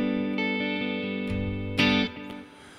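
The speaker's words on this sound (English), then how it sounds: "So that's just a little bit of tape delay from the Empress Echo system running into my McClosstone Princeton reverb." Clean electric guitar tone run through an Empress Echosystem tape delay into a Princeton Reverb amp, a few sustained chords and picked notes ringing with soft repeats, moderately loud and alone.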